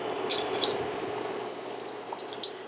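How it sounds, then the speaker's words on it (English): Meat-filled samosadas fry in hot oil with a soft, steady sizzle and scattered small pops and crackles, fairly quiet and close, with no talking. "And there it's sizzling away nicely."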